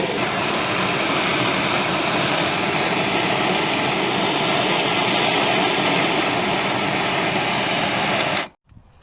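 A torch roaring steadily and loudly at close range as it heats a single point on a golf club head for bronzing, a constant dense rush lasting several seconds before cutting off abruptly near the end.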